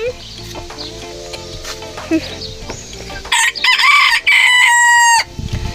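Chickens feed on chopped nettle and oats, with a rooster crowing loudly near the end over their clucking and soft background voice.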